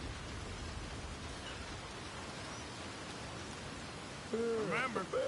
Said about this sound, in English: Just as the rain comes